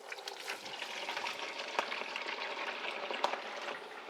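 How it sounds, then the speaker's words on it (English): Katsu cutlet deep frying one at a time in a small pot of hot oil, a dense continuous crackling sizzle with occasional sharp pops, close and steady, no voices. "then we'll deep fat fry our katsu"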